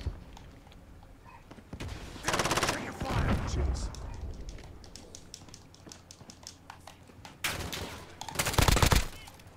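Gunfire in Call of Duty, with bursts of automatic fire at a moderate distance in two clusters separated by quieter stretches of scattered shots and footsteps, no talk.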